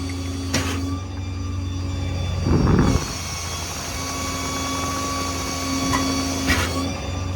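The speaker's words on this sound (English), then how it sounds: "Outriggers are now fully deployed." Hydraulic outriggers extending on a 2019 Ford F-550 crew cab crane truck with an IMT Dominator bed and 7500-22 crane, a steady loud hum and whine with a brief rougher surge partway through, no talking.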